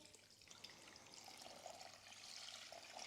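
Water is poured into a pan of softened onions and rice for a cherry tomato risotto, giving a soft, steady trickling splash that swells slightly toward the end.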